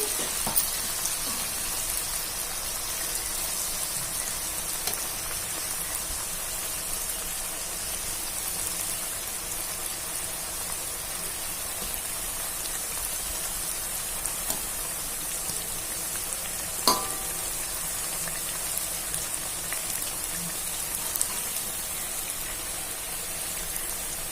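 Sweets sizzle steadily in hot oil, giving a dense, even crackle throughout with one brief clink near the middle.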